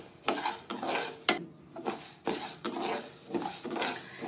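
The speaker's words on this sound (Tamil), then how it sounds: "அதனால கொஞ்சம் அனல் கொஞ்சம் மிதமாக வச்சு வறுத்துட்ருக்கேன்" Lentils being dry-roasted in a pan for paruppu podi, stirred with a utensil in repeated scraping, rattling strokes against the metal, each burst separated by brief pauses, close and clear.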